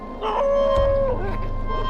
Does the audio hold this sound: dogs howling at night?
yes